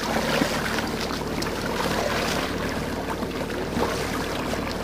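Ocean Kayak Scupper Pro fishing kayak pushed by a Torque electric motor, with a constant low motor hum under splashing, rushing water along the hull, steady throughout and nearby.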